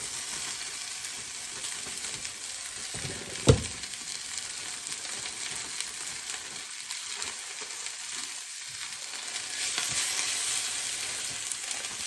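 Fresh spinach wilting in a hot pan gives a steady, soft sizzle that runs throughout, with one brief sharp clatter early on and no talking.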